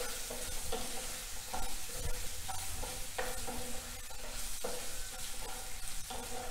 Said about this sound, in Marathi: हे सगळं घालून पुन्हा एकदा छान परतून घ्यायचं. आता त्यामध्ये आपण कांदा घालायचा आहे.